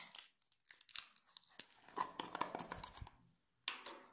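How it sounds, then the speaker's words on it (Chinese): Stuck plastic packaging on a pink body scrub is pried and torn open by hand, giving close, quiet bursts of crinkling and ripping with short pauses between tugs. "这个粘住了，把它拆开。"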